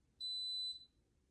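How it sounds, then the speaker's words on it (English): A ceiling fan light receiver gives a single clean, steady electronic beep of about half a second when powered up, faint against quiet room tone. "There's the beep."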